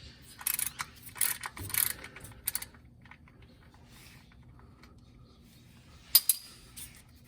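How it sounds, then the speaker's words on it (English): Ratchet clicks while loosening a drain or fill plug on a Jeep Wrangler JK during a transmission or gear fluid change: a few short bursts of metallic clicking, close, then a quieter stretch and one final click burst. "This might be easier with a breaker bar, by the way, or a longer ratchet."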